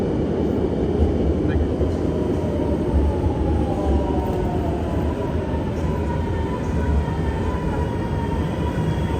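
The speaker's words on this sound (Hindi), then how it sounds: "फाइनली जी नेक्स्ट ट्रेन आ चुकी है, ये देखिए।" A train pulls into a station, a steady, loud rolling rumble with a faint high whine that fills the whole stretch of time.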